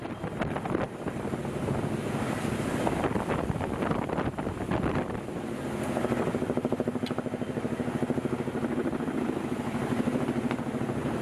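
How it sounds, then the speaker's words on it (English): A helicopter hovers about 220 feet above the ground while placing logs into a stream, its rotor thumping in a steady, rapid beat under gusty wind noise, fairly loud and continuous without voices. "The helicopter is typically only about 220 feet above the ground."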